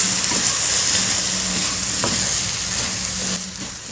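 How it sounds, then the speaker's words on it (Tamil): Rice stirred in a hot pan over a low flame for coconut rice, under a continuous loud sizzle, with a few scraping strokes before the sizzle softens near the end. "சிம்மில் வச்சுட்டு நல்லா கிளறணும்."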